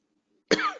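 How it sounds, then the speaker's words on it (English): A single sharp cough bursts out after a moment of near silence, close and fairly loud, with a harsh throaty onset trailing off briefly. "Sorry, bit of a coughing fit."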